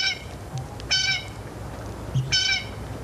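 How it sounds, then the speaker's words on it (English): A blue jay gives loud, harsh calls in three separate bursts, each a short repeated nasal note, standing out clearly over a quiet background. "A flashy, noisy bird, the blue jay is impossible to overlook."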